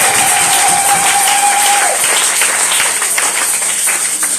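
A church congregation at a Sunday service applauds loudly and continuously, a dense wash of clapping that fills the room, with a voice briefly audible at the start.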